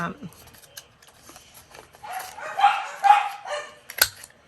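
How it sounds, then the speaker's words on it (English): Dogs barking indoors, several sharp barks in bursts, moderately near, with someone talking and paper-crafting noises around them. "I'm so sorry about the dogs today"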